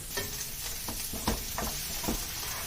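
Beef stir fry sizzles steadily in a hot pan, close up. Spatula scrapes and tosses cut through at a loose, irregular rhythm.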